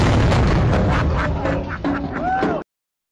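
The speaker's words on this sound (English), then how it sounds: "That's what the rocket launcher is for in this game." Rocket launcher fired in the Resident Evil 4 remake, a dense, loud roaring blast that rumbles for over two seconds, with a rising whistling whine near the end before it cuts off abruptly.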